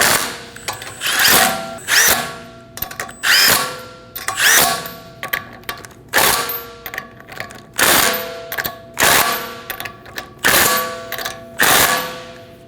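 Impact or power tool spinning lug nuts onto a car wheel during a rear brake job on a 2019-2026 Mazda 3, about a dozen loud, close, repeated whirring bursts with brief pauses between, no talking.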